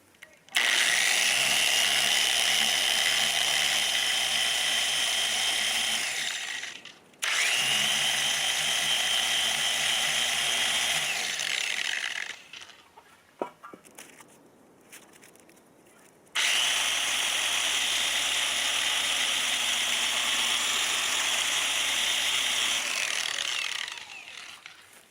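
A power polisher buffing a motorcycle windscreen with ultra cut compound, a steady high-pitched mechanical whir running in three long bursts separated by short pauses with faint handling noises between.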